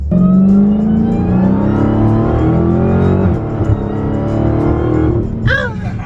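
Wrecked C8 Corvette engine loud and close, revving hard and accelerating with rising and falling pitch, ending in a short sharp rev burst.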